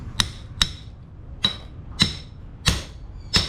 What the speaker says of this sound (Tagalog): Martilyo.